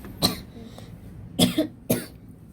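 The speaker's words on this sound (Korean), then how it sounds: "왜 기침하는 거야?" Three sharp coughs close up, one alone and then two more spaced about half a second apart, over a quiet room background.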